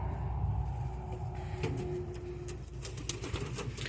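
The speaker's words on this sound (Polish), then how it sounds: "wpuszczam ich do gołębnika" Short-beaked pigeons cooing and fluttering nearby as they enter a loft, soft wing flaps and scuffling, with a low background hum and occasional sharper taps.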